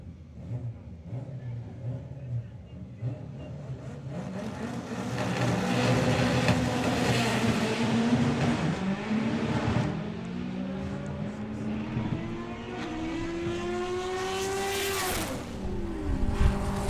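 A drag racing car makes a 175 mph pass, its engine roaring loud and rising in pitch through the run, with a brief tire chirp and a final high scream near the end.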